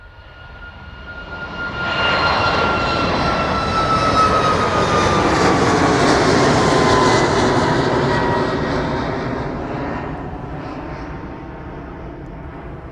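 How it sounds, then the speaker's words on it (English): Passenger jet departing runway 27 at East Midlands Airport, a loud swelling engine roar that builds over two seconds, holds strong, then slowly fades with a falling whine as the plane climbs away. "Let's pan back around then in the direction of runway 27, catch the departure of that service to Dalaman."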